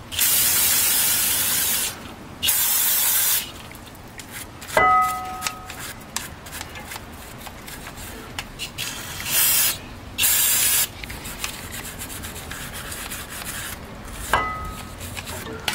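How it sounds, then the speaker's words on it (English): Several loud bursts of aerosol brake cleaner hiss in short blasts of a second or so on Land Rover Discovery Sport rear brakes, separated by pauses with small clicks and handling noises. "we're gonna spray some brake cleaner."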